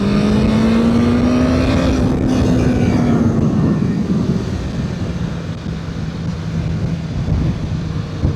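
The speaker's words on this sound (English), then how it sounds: "I really don't think it has a bad exhaust note, especially as you're decelerating." A BMW S1000R streetfighter motorcycle exhaust while riding, a loud steady engine drone with a pitch that rises, then eases off and falls as it decelerates, with a continuous rushing background.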